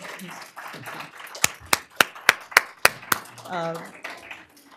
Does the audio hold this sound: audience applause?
yes